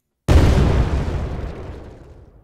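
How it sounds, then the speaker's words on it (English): An explosion sound effect triggered in Unreal Engine 5 bursts in sharply after a brief silence, a loud, deep boom whose rumbling tail slowly fades over two seconds. "Yeah, the explosion is fine, I believe."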